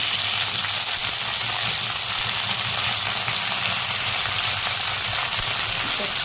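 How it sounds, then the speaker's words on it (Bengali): Vegetables including eggplant fry in a hot pan, giving a steady, dense sizzle that runs unbroken and fairly loud from start to finish, with no one talking. "এই সবজিগুলো একটু ভেজে নেব। কি আওয়াজ হয়"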